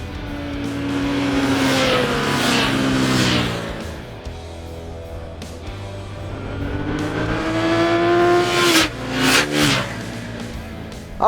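Naked sport motorcycles, an Aprilia Shiver 900, Kawasaki Z900 and Suzuki GSX-S750, revving and accelerating loudly up through the gears, engine pitch rising and falling across several shifts, close and continuous.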